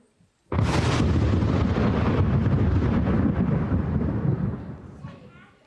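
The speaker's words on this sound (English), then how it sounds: "a flash of lightning and a clap of thunder" A sudden, powerful thunderclap erupts and rolls on as a sustained, heavy rumble for several seconds before slowly fading away.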